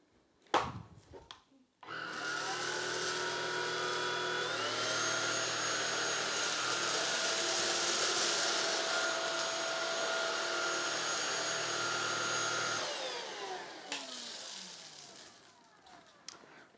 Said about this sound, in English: On this side, I will use the cleaner in boost mode.